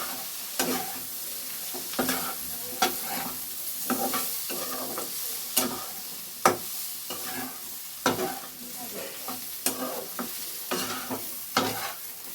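Eggplant with chilli and turmeric powder is stirred in a pan over a steady sizzle, the spatula scraping and clacking in irregular strokes about every second or so, close and moderately quiet.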